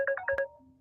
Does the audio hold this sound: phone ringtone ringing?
yes